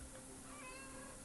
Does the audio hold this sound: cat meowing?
yes